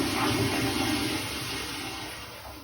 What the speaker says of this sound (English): So let's just listen to the toilet flush.